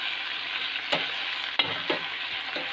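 Green chili and eggplant fry in a pan with a bright, steady sizzle, punctuated by a few sharp stirring clicks and scrapes, close up and with no speech.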